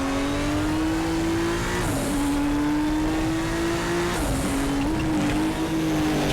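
A classic touring car lapping Sonoma in the RaceRoom Racing Experience game, its engine droning loudly and steadily with brief dips and tire scrubs as it rotates under steering and throttle.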